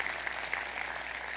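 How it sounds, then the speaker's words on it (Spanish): A congregation applauds during a church sermon, a dense, steady wash of many hands clapping together for a short burst, with no voices over it. "un aplauso a Dios por ello"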